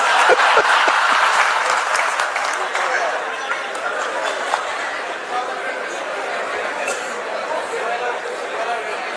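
An audience at a state-level teachers' workshop applauds, a dense, sustained clatter of many hands that fades slightly while murmured chatter and a little laughter continue beneath it.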